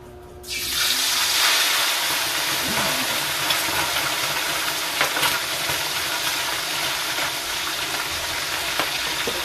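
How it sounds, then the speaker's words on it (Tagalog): A whole chicken drops into hot cooking oil and fries with a sudden burst of loud, dense sizzling that keeps crackling steadily, with no talk over it. "Mainit na ang ating mantika. Ilagay na natin yung ating buong chicken."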